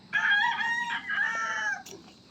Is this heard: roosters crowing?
yes